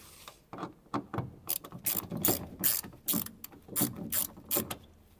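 A ratchet wrench unscrews a part on a Volkswagen Passat in a body repair shop, a dozen or so quick, close metallic clicking bursts in uneven rhythm, with no talking.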